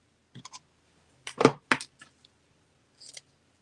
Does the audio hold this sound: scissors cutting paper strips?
yes